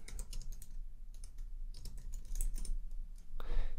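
Close, fairly quiet typing on a computer keyboard, with irregular clusters of key clicks and short pauses, ending with a slightly louder keystroke.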